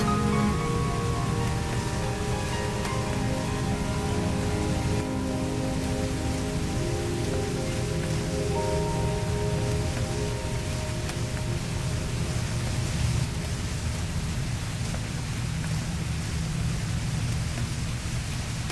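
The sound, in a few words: rain falling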